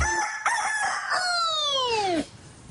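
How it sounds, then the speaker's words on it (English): A rooster crows once in a long, loud, drawn-out cock-a-doodle-doo that rises and then falls away, heard alone and close with no talking. "That was a very talented chicken."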